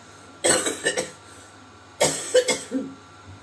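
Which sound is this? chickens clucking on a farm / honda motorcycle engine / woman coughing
woman coughing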